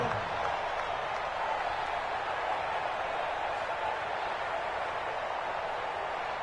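A virtual stadium crowd in a Madden football video game roars steadily and loudly with no break, building tension before a big third down.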